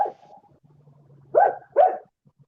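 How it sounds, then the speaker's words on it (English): Dog barking outdoors: a short whine followed by two quick, sharp barks close by, loud and clear with near silence around them. "just in case you're wondering, that's my dog"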